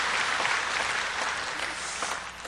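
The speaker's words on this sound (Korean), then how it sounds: "다 같이 크게 박수하겠습니다." A church congregation claps together in a steady, dense wash of applause at a Sunday service, sustained and fairly loud throughout with no pauses.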